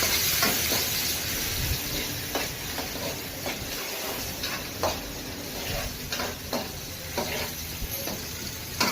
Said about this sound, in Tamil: என்னென்ன போட்டிருக்கீங்க இப்போ? பூண்டு, வெங்காயம், அவ்வளோதான்.